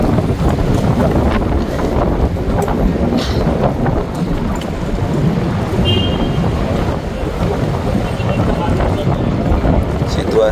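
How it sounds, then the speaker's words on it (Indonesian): Strong wind roars into the microphone near Masjidil Haram in Mecca, a loud, constant buffeting rush under someone speaking. "Angin kenceng sih, tapi tidak dingin."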